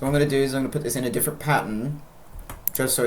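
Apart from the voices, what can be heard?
No everyday noises stand out.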